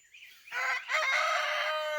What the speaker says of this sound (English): I hear you, rooster.